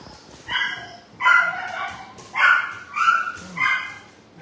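Trapped puppy giving a series of about five sharp, close barks and yips, spaced roughly half a second to a second apart, with slight whimpering tones between them and no talking.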